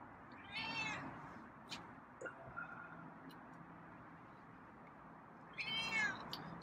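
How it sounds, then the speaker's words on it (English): A feral cat outdoors gives two clear meows, one early and one near the end, moderately close over a low steady background rumble. "Surprised you're so meowy."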